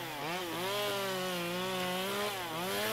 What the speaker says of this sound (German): Das Surren von Kettensägen